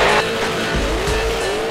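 Formula Drift drift car on Yokohama tires at a 2012 New Jersey round, engine roaring loud and steady as the tires squeal and skid throughout, with a tonal screech sliding through the whole stretch.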